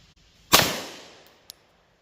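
A single 9mm carry pistol shot cracks loud and close, its sharp report decaying over about a second, followed by a faint click.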